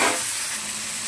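Cumin, mustard seeds and curry leaves sizzle in hot oil, a steady close, bright frying hiss that stays even throughout.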